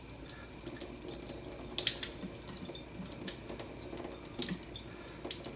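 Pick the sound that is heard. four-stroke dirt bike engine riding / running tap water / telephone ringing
running tap water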